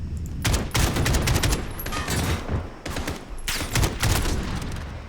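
Rapid, loud bursts of gunfire from a sniper fight in the video game Call of Duty Modern Warfare come in dense volleys with brief pauses, filling the whole stretch.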